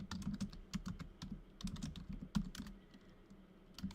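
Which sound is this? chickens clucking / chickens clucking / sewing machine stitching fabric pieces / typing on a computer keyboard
typing on a computer keyboard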